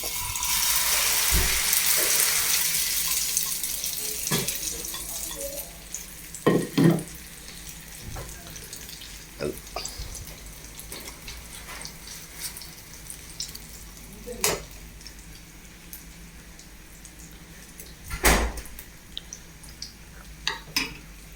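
Eggs frying for an omelette with pepper and peanuts in a pan, a steady soft sizzle with occasional clinks and stirring sounds, fairly close and moderate in volume, no talking.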